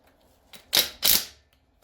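Two sharp mechanical clicks in quick succession, close and fairly quiet, with a softer tap just before, from tightening bolts on a TH350 automatic transmission being rebuilt in a workshop.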